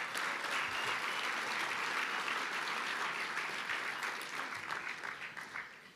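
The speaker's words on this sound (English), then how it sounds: "a round of applause, please" Audience applause at a Rhode Island Hockey Hall of Fame induction event, a dense steady clapping from a large crowd lasting about six seconds and slowly fading toward the end, with no talk over it.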